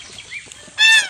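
Geese on a Filipino goose farm give a single sharp, loud honk near the end of a short, otherwise quiet stretch.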